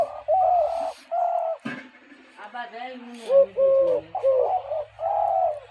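Pet pigeons kept in extreme cold coo loudly and close by, giving a string of repeated throaty coos with short pauses between them and a brief rough flutter partway through.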